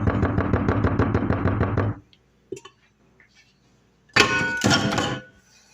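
Rhythmic scraping strokes in a kitchen while an apple rum cake batter is worked out of a bowl, loud and close for about two seconds, then a few faint knocks, followed by two more short bursts of scraping.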